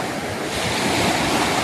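Waves breaking steadily on the sandy shoreline of Tatado Beach in Shimoda, a continuous wash of surf with wind noise over the microphone, close and fairly loud, no voices.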